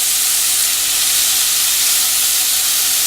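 Chicken frying in a hot pan with asparagus, giving a loud, steady sizzle and hiss that holds through the whole stretch with no talking.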